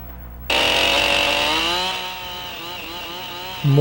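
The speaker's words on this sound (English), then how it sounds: "More accuracy with the chainsaw is obtained by walking the saw down the cut" A chainsaw starts up abruptly and roars at full revs while notching a post for a log cabin, then its pitch sags slightly as the blade bites into the wood, loud and close.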